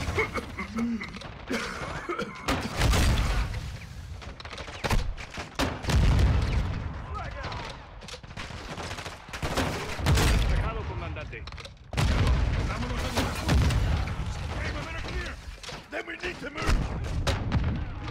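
Loud bursts of gunfire and heavy booms in Call of Duty Modern Warfare 2 while fighting armored enemies with shields, irregular volleys and impacts close up, with a voice talking over parts of it.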